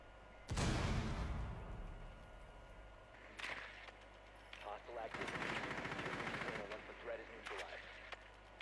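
Automatic weapon fire in Rainbow Six Siege opens with a loud, sharp burst and trailing echo, then several quicker rattling volleys follow at a slightly lower level.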